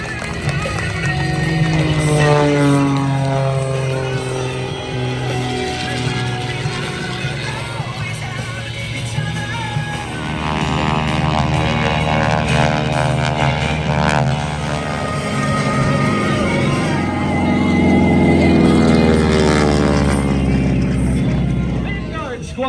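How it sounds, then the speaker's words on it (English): A de Havilland Super Chipmunk propeller airplane performs at a 2021 Lake Cumberland air show, its engine drone rising and falling steadily throughout as it passes, heard under a loud announcer's voice over the PA. "let's put our hands together for Nathan Hammond and the de Havilland Super Chipmunk"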